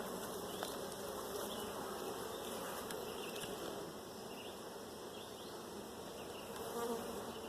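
Bees and yellow jackets swarm around a beehive, a steady dense insect drone of many wings buzzing close by without a break, with no voices.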